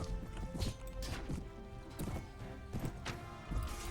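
Horse hooves clip-clop in a fast, rhythmic gallop amid a chaotic battle in the game Mount and Blade: Warband, with thuds and crashes mixed in at a steady moderate level.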